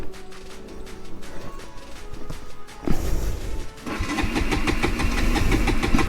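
A Bajaj Pulsar NS200 motorcycle engine cranks with no fuel left in the tank: a low starter whir and knocking, then a sudden louder burst of rough, fast mechanical chatter that keeps going to the end.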